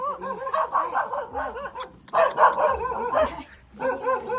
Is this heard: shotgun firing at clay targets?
no